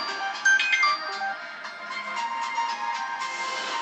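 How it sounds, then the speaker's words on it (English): A phone rings with an incoming call at a window tint shop, a bright electronic ringtone melody that repeats over a steady high background hum, fairly close and with no voices. "A phone call."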